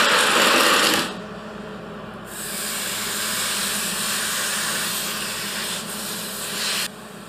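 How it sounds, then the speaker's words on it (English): Welding a steel pipe on a Dana 60 axle at maximum power: a loud, steady crackling hiss that runs almost without a break, sharp at the start and fading slightly before a brief drop near the end. "as I was welding this, I was watching the wire just gouge the steel pipe out and replace it with filler"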